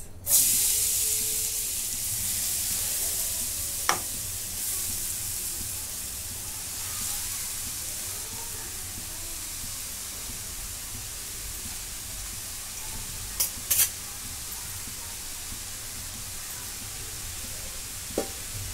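Grated mango sautés in a pan with a steady, soft hiss and sizzle that runs throughout, broken by a few brief clicks and clinks.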